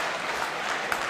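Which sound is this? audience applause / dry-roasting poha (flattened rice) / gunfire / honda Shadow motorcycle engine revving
audience applause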